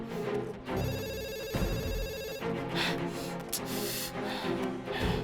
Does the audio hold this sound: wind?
no